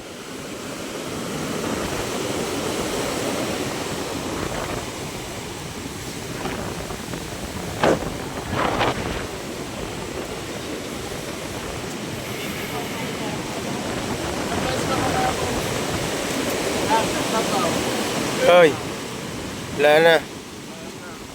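Sea water surges and rushes around a beach hut in a steady, loud broadband roar, with occasional heavier splashing bursts and faint voices nearby.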